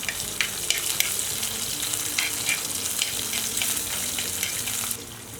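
Crushed garlic goes into hot oil already holding mustard seeds and cumin, setting off a loud, steady sizzle with fine crackling spatter that fills the whole stretch and eases off slightly at the end.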